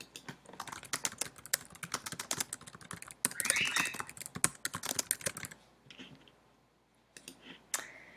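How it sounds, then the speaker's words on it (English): Rapid clattering keystrokes on a computer keyboard, close and crisp, in quick bursts with a short pause before a few final taps, no voices. "So I type that here."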